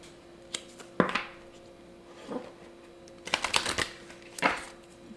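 Tarot cards being handled and drawn from a deck, giving a few sharp card snaps and flicks spaced out over several seconds, followed by a busier cluster of shuffling rustles near the end, close and fairly quiet.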